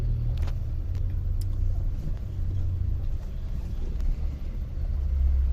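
Heavy, slow-moving road traffic in Bulandshahr, Uttar Pradesh: a steady, loud low rumble of idling and creeping engines fills the whole stretch, with faint scattered higher noises and no talk.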